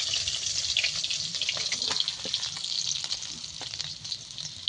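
Fish frying in hot oil for a Bengali dish with mustard and poppy seed: a steady, close crackling sizzle that runs unbroken with small spits and pops, no voices over it.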